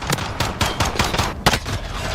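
Gunfire in a video game shooter match, with several rapid, close shots landing in quick bursts and rattling on for about two seconds.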